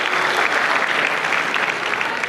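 Audience at a cosplay contest at the Supanova Gold Coast 2016 convention claps steadily, a dense, even wash of applause that holds loud throughout with no one speaking over it.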